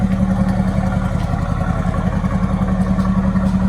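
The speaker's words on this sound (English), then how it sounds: "Exhaust sounds good." A 2016 Mercedes GT bi-turbo with 503 horsepower idles steadily, its exhaust giving a deep, loud, continuous low rumble with a faint mechanical clatter on top and no voices.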